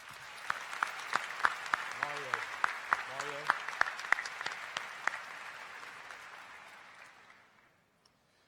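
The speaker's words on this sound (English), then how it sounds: "Please give these students a round of applause." Graduation ceremony audience at a high school applauding the band and underclassmen, a steady wash of clapping with a brief voice speaking over it, fading out toward the end.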